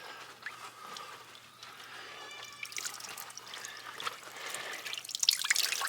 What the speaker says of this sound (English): Then I just take and wring them out.